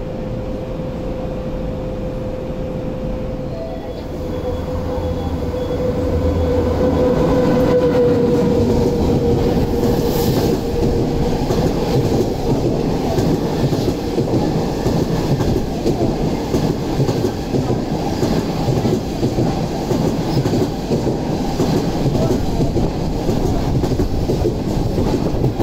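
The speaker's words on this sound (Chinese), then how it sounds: "不停站列车现在驶经本站，乘客请勿超越黄线" An MTR intercity non-stop through train, KTT type, runs through a station platform: a loud, steady rumble swells in after a few seconds of quieter ambience and continues as a dense, even wheel clatter to the end.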